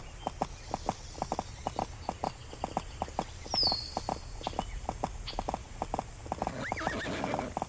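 Horse hooves clip-clop in a steady, rapid walking rhythm through a horse-riding adventure game, with a horse neighing once near the end; the hoofbeats are close and clear, with no voices.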